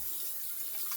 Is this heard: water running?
yes